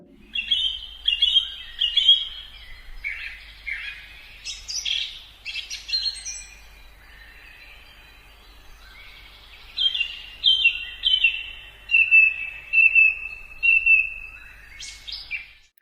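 Wild birds sing and chirp outdoors, several high twittering calls and trills repeating in bursts with brief pauses, fairly close and clear over a faint low background hum, no voices.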